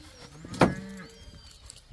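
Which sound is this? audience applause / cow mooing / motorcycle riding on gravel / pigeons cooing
cow mooing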